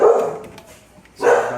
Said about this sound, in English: and this stops barking, we'll come back